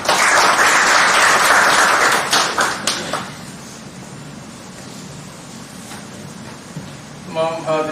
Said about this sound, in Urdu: جناب اکبر علی چشتی صاحب آپ کی بھرپور تالیوں میں۔